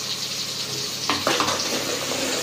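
Whole spices and leaves sizzle and crackle in a hot pan during home cooking, a steady frying hiss that swells into a louder burst of spattering as more go in, with no voices.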